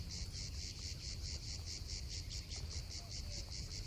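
Cicada song under a summer sky at L'Estaque in Provence, a steady shrill drone pulsing in fast regular beats, loud and continuous over low background rumble with no voices.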